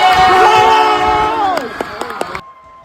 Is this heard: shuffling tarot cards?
no